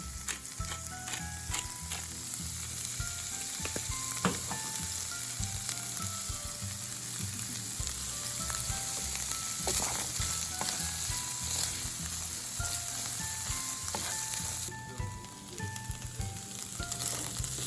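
Corn frying in a pan gives a steady, even sizzle for the whole stretch, with scattered small pops and a brief dip near the end, and no talking.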